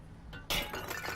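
A glass object shattering in Half-Life: Alyx, a single sudden crash of breaking glass followed by a brief tinkle of falling shards after a quiet lead-in.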